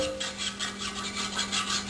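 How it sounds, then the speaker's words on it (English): A brush dipped in lemon juice scrubs back and forth along a long hookah stem, a steady rhythmic rasping that swells and fades with each close, fairly quiet stroke. "So scrub that stem with the brush."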